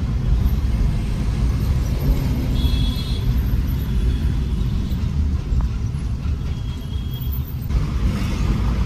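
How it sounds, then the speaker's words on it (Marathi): Road traffic waiting at a signal in Mumbai: a dense, steady rumble of idling cars, buses and trucks, with the occasional hiss of an air brake. "सिग्नल्स आहेत इकडे जास्त आणि ट्रॅफिक पण आहे बऱ्यापैकी"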